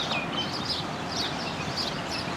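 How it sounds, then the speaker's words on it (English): Birds chirping outdoors near a fenced play area, scattered high tweets over a steady background hiss, fairly faint and without talk. "You can hear the birds."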